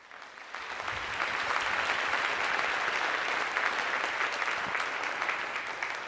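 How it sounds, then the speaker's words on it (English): An audience applauds band students at a high school spring concert, a steady wash of clapping that swells in within the first second and holds evenly to the end, fairly distant and moderate in level. "I do want to applaud you children"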